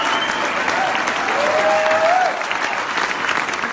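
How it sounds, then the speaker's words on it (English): An audience cheers and applauds wildly at a streaming-service pitch event, a loud, continuous roar of clapping with a brief whistle-like whoop rising through the middle. "Listen to the crowd losing their freaking minds."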